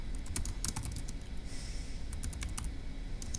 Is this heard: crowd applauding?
no